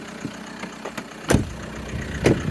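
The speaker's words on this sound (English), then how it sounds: "Seems to have a good running engine, just obviously got a fault somewhere." A 2009 SEAT Alhambra 2.0 TDI diesel with a fault, engine running at a steady idle, a low continuous hum broken by a couple of sharper knocks and clatters close by.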